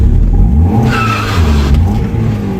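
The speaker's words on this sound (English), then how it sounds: "Try to do a burnout." Mazda Miata attempting a burnout with a badly slipping clutch, the engine revving loudly up close as the tires squeal briefly, then the revs drop off.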